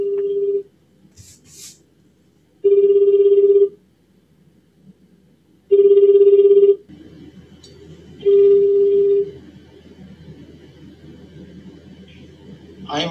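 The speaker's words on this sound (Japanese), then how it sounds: "電話してみます" On an outgoing telephone call, the ringback tone sounds four times as long steady beeps separated by silences, loud and close, before a faint line noise and hum take over.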